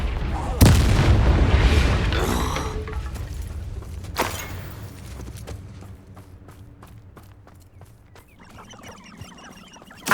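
A Confringo fire spell explodes in Hogwarts Legacy with a loud booming blast and a rumbling decay, followed by a second thud, scattered crackling debris and smaller impacts fading out.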